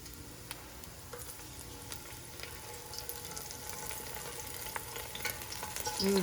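Garlic and a small piece of Scotch bonnet pepper sizzle in hot frying oil, a steady close crackle with scattered pops that swells slightly toward the end, no voices.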